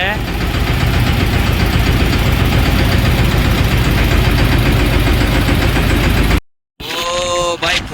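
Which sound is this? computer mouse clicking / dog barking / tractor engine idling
tractor engine idling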